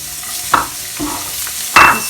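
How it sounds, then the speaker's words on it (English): Finely chopped garlic hits hot oil in a pan over a high flame, giving a few short sizzling bursts with quieter spitting between them and no voices. "Now in the same oil, in the same pan, I'm just going to add this garlic"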